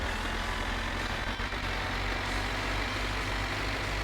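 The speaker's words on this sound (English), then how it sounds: "Driving this tractor on hills is garbage." Tractor engine in the driving game My Summer Car, a steady low drone labouring uphill, loud and continuous with a constant hum throughout.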